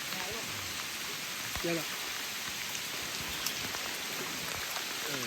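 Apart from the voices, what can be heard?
heavy rain falling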